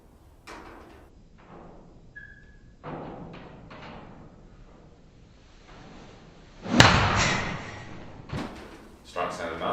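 A golf club strikes the ball during swing practice, a sharp crack standing out among softer thumps and a voice talking nearby.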